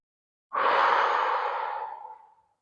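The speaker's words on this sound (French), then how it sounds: "Inspire par le nez, expire par la bouche." One long, deep exhale during a morning yoga breathing exercise, in through the nose and out through the mouth, close and clear, starting abruptly and slowly fading over about two seconds.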